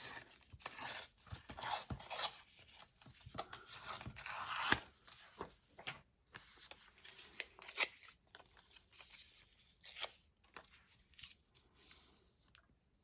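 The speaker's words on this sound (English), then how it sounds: "So I think I'm going to rip some of this part." Paper being torn by hand for a junk journal belly band: a series of quiet, close ripping and rustling bursts spread over several seconds with short pauses, no voices.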